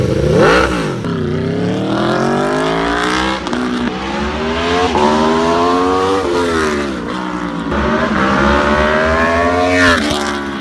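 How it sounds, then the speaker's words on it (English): An Aprilia motorcycle fitted with a Yoshimura Alpha T slip-on exhaust revs hard through repeated rising and falling sweeps, a loud, raspy, continuous engine note that climbs and drops throughout, with no talk. "I want to get the Yashimura Alpha T slip-on exhaust. Listen to it. It just sounds absolutely amazing."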